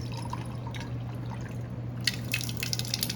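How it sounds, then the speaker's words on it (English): Water poured from a lab beaker into a plastic bag, a faint trickling and dripping over a steady low hum, brightening into splashier pouring in the last second. "put 100 milliliters of water into each bag"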